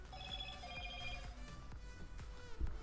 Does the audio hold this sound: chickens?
no